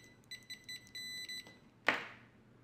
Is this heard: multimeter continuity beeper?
yes